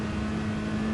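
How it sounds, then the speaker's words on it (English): A car engine in the racing game GT Sport is held high, giving a steady, fairly quiet droning hum with a strong constant tone and no clear rise or fall. "just revving it out."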